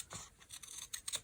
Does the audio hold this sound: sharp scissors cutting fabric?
yes